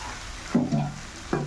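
Prawns hit a hot pan with a soft, close sizzle, broken by a few short scraping, squeaky stirring sounds over about a second and a half.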